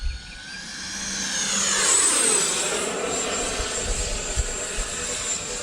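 A Horizon Hobby F-16 radio-controlled jet screams past close by, its turbine whine sweeping down in pitch as it passes, with a steady roar that carries on loudly after the pass.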